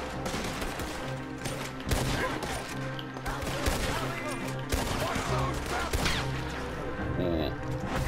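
Gunfire in the video game Red Dead Redemption 2, with repeated sharp shots and bursts scattered over busy in-game ambience, fairly loud and close throughout.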